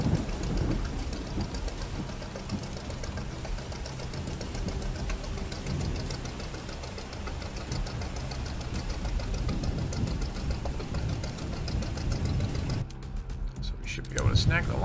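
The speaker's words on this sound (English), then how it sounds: "Engine upgrade actually does make a huge difference to this boat." Upgraded fishing boat engine in the video game Fishing: Barents Sea runs as a steady, loud low drone with a knocking rumble, continuous throughout, with a brief shift in texture near the end.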